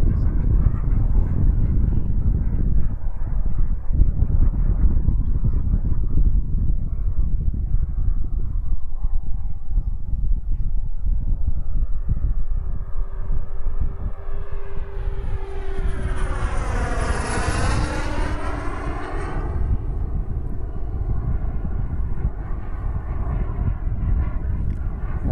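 Aviation Design Diamond RC model jet engine on a maiden flight roars steadily and loudly, its pitch sweeping up and back down as it passes close by and the throttle is reduced, while someone talks throughout.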